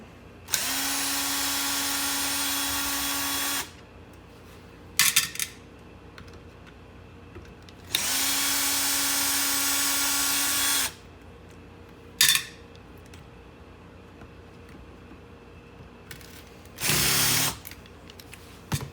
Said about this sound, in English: all we have to do is take out these screws right here and the motor will fall out